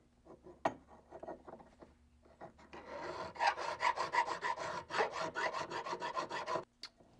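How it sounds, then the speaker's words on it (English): A hand file rasps back and forth across a sawn-out metal die shape, trimming up to a marked line. The strokes are close, rhythmic and scratchy, light at first and then quicker and harder in a steady run before stopping. "Just filing right up to that line, getting my shape as dialed in as possible."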